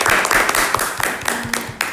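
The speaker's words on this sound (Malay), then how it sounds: "Berikan tepukan pada semua." Schoolchildren in a classroom clap for their classmates at the end of a lesson, a brief loose patter of hand claps from a small group at close range.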